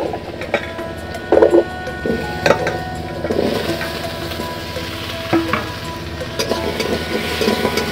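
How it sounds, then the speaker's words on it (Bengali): Potatoes frying in a red spice masala, a close sizzle with occasional stirring clatters and scrapes against the pan, steady and fairly loud throughout. "আর এখন আমি আলু দিয়ে দিচ্ছি।"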